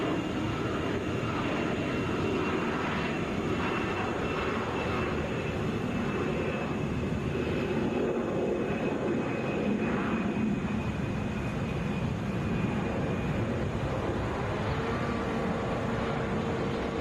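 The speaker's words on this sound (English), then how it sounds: "This is Delta 2200, headed to Columbus," An Airbus A320 airliner at Atlanta International Airport gives a loud, steady broadband engine roar that holds throughout without a break, with no talk over it.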